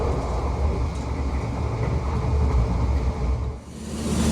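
Majapahit economy passenger train on the Jakarta–Malang line, heard from inside as a steady loud rumble of wheels on rails, with a brief dip near the end.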